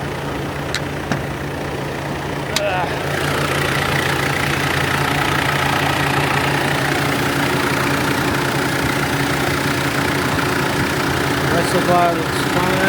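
A Mitsubishi Pajero's engine idles steadily at a stop with a low continuous hum, heard close throughout after a brief quieter opening.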